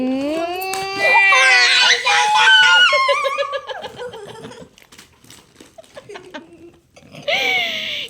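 A child wails in rising, pitched cries that break into sobbing gasps, loud and close, trailing off before another short cry.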